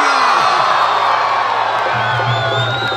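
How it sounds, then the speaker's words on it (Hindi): A dense festival crowd at Jashn-e-Baharan in Lahore roars and whoops continuously, loud and close, a sustained wall of cheering and shouting. "फिर अकेली तालियां नहीं, साथ में शोर भी होना चाहिए"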